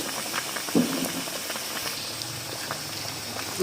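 A burger patty fries in a pan for a crispy crunchy burger, giving a low, even sizzle with light popping and a couple of soft knocks, fairly quiet and steady throughout.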